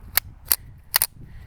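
Three sharp pistol shots from a Ruger Mark I, the last two fired in quick succession, with sharp cracks at close range and no talk.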